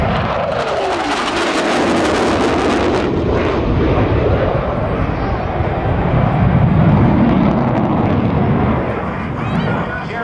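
F/A-18 fighter jet roaring loudly and continuously in afterburner as it banks sharply left in a carrier break at about 350 knots during a demonstration flight, with a broad sustained engine rush that swells slightly near the end.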